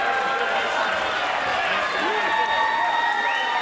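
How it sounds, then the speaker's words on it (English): At a Riot Cabaret street fight between Cara Noir and Chuck Mambo, a wrestling crowd cheers and applauds in a steady, dense roar that fills the hall, with whistles and shouts rising above it. "The crowd comes alive!"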